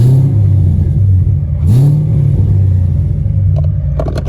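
Close, loud revving of a 2017 Chevrolet Camaro SS's LT1 V8 with the Valvetronic exhaust valves shut, a steady muffled rumble that rises briefly in one rev near the middle before settling back, a few clicks at the end.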